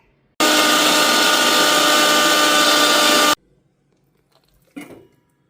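A mixie jar grinds a tomato and red chilli chutney with mustard powder added, a loud steady whirring roar for about three seconds that cuts off abruptly, followed by a brief clatter of the jar.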